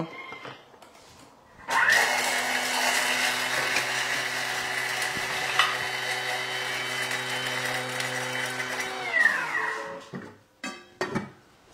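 A Thermomix blends salad ingredients at speed 9 with a loud, steady high motor whine. It kicks in abruptly, runs evenly for about eight seconds, then winds down, followed by a few light clunks.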